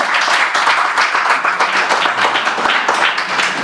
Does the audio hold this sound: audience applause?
yes